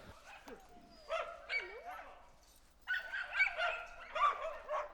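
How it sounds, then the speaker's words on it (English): Racing Husky sled dogs, a smaller breed, bark and yip in excited bursts, with whimpering in between, fairly close by and alone without talk. "the Racing Husky dog, which is a smaller breed"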